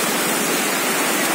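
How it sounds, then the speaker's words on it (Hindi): Water flows steadily at a fishing spot, a dense, continuous rushing wash with no voices. "पानी बह रहा"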